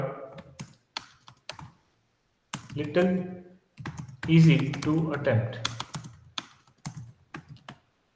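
Computer keyboard typing while entering a prompt: scattered soft key clicks fall in the gaps between a person's speech, fairly quiet and partly buried under the voice.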